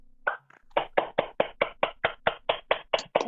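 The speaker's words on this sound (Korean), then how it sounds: "그럼 지금부터 기대되는 강의를 해주시는 백주영 선생님을 큰 박수로 맞아주시길 바랍니다." An audience at a teachers' lecture on AI education welcomes the lecturer with about a dozen evenly spaced, rhythmic claps, close and clear, with no talk.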